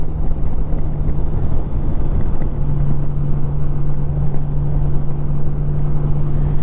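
A 2002 Honda GL1800 Goldwing motorcycle accelerates with a steady low engine drone and a constant hum, heavily buffeted by wind rushing over the microphone, with no speech.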